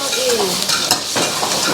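Ingredients, including ginger, sizzle steadily in hot oil in a wok at a Thai cooking class in Chiang Mai, close and loud, with a continuous hiss, stirring scrapes and a few faint utensil clinks throughout.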